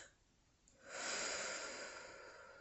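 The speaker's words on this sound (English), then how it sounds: "You can do deep diaphragm breathing, where you breathe in super, super deep" A slow, deep diaphragmatic exhale swells in after a quiet pause, a long airy rush of breath that stays steady and close before gently tapering off.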